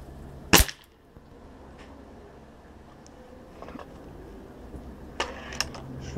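A Diana Bullseye air rifle fitted with an anti-recul mount fires one sharp, close crack. Quiet background follows, then a few faint clicks and knocks from handling the gun.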